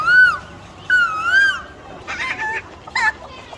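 A young boy imitates rooster and other bird calls with his voice, giving a few loud, close, warbling crow-like and clucking bursts separated by short pauses.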